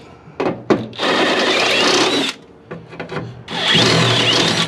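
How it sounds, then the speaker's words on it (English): A power drill whines loudly in two long bursts, grinding out holes on a 1973 Ford F100, with short clicks and a quieter pause between the runs. "I'm gonna drill out these holes a little bit."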